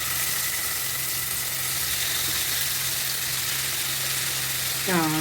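Chicken fries in hot oil for butter chicken masala, a steady, close sizzle and crackle that runs throughout, with a faint voice near the end.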